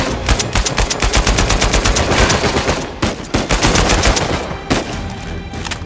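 Sustained loud automatic gunfire from the video game Uncharted 4, rapid bursts of shots rattling almost continuously for several seconds with brief gaps, close and dominant with no talking.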